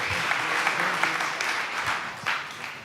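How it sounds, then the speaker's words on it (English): Audience at a tech community event applauding, a dense steady patter of many hands clapping together, moderately loud and sustained throughout with no talk over it. "a round of applause for throwing this whole event"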